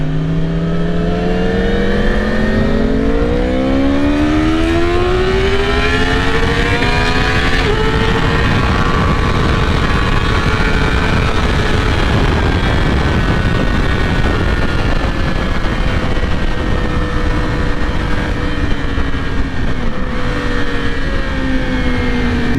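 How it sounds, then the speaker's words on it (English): Yamaha R1 sport motorcycle exhaust on a ride, a loud continuous engine roar with pitch climbing through the gears and easing back, riding over heavy wind rush, close and without talk. "let's listen to some sweet, sweet sounds of the R1 exhaust"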